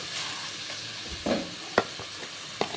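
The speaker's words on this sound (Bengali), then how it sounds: "শুকিটা দিয়ে দিলাম তারপর আমি এটা একটু ভেজে নিয়ে আস্তে ভেজে নিয়ে" Dried fish (shutki) fries gently in a pan during home cooking, a soft steady sizzle broken by a few sharp clinks and scrapes of stirring.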